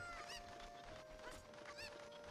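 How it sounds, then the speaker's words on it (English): Chickens in a video game cluck and squawk in a few quick, honking bursts over a steady low game background, with no one speaking. "How many chickens do you need?"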